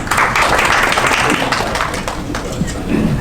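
Audience at a cloud-platform tech conference applauds to welcome a speaker to the stage, a loud, dense burst of clapping sustained throughout.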